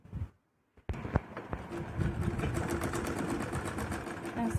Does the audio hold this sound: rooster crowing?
no